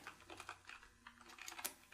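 Quiet, rapid keyboard typing: a quick run of light key clicks at an uneven rhythm, close by and faint, with no voices.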